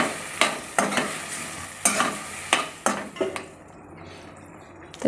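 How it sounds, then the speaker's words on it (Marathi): A paste of green chili, pigeon peas and garlic sautés in oil, soft sizzling broken by five or six sharp metallic scrapes of a spoon against the pan, spaced about a second apart. "हे वाटण पण तेल सुटेपर्यंत छान असं तेलावर परतून घ्यायचं आहे।"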